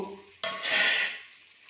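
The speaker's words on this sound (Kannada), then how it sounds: "ಅಲ್ಲಿಯವರೆಗೆ ಒಲೆಯ ಮೇಲೆ ಇದು ಈರುಳ್ಳಿ ಟೊಮೆಟೊಗಳು ಫ್ರೈ ಆಗ್ತಾ ಇರ್ತವೆ" Onions and tomatoes fry in a pan on the stove for a ridge gourd and radish sambar, bursting into a loud, close sizzle that hisses steadily and then quiets down.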